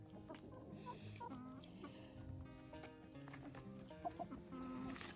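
Chickens clucking softly nearby, with scattered low clucks and murmurs overlapping amid light rustling, no talking.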